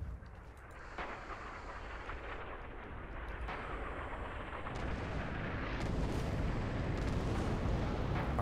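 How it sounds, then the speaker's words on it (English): Artillery fire in the World War II shooter Red Orchestra 2, a steady low rumble of distant shelling that swells slightly louder toward the end, with scattered faint cracks on top. "Artillery inbound there."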